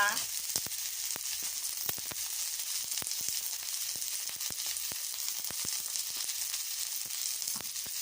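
Canned fish and kohlrabi stir-frying in a pan, a continuous fine sizzle punctuated by frequent sharp crackles and pops, close and fairly quiet, with no talking.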